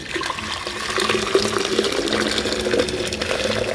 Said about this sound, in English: this is the third hot water wash going in